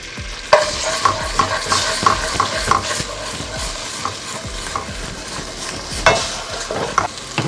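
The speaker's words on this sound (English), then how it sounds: "I'm just gonna go ahead and scramble this egg" Beaten egg being scrambled in a hot pan, a continuous close sizzle with rapid, regular spatula scrapes and taps against the pan, loud and without voices.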